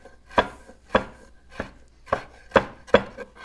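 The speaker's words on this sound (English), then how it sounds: "It probably sounds really loud. I'm just going to chop it up as fine as I can." Fresh mint being chopped with a knife on a board, six distinct, fairly loud thuds at an uneven pace of roughly one every half second, with nothing else heard.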